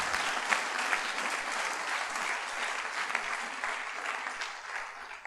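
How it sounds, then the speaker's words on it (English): Sustained applause from a church congregation during a sermon, dense and steady clapping throughout with a few sharper claps standing out, fairly close and continuous without talk. "Clap for Jesus Christ."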